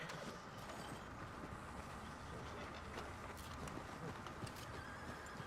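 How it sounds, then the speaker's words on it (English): Horses neigh and their hooves clip-clop in the Red Dead Redemption 2 video game, set against a dense, steady rumble that holds at an even loudness throughout. "Come on, horses."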